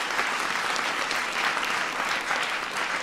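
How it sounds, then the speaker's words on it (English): Audience applause at a presidential event, a dense, steady wash of many hands clapping at moderate level, continuous with no voices over it. "Give John a big round of applause."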